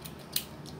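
Scissors trim excess thread from sewn leather with a few quiet, crisp snips, close by and alone in a still room.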